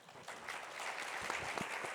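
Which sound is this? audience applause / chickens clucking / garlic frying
audience applause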